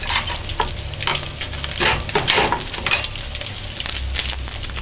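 Fish frying in oil, a close, continuous crackle and sizzle with scattered pops and light stirring sounds throughout.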